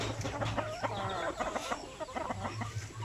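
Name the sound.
native chickens clucking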